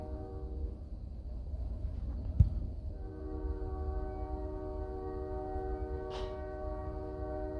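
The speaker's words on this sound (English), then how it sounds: "It is a train." A train rumbles past at a steady distance, then its horn sounds a long, sustained multi-tone blast that holds to the end, with a sharp clack partway through.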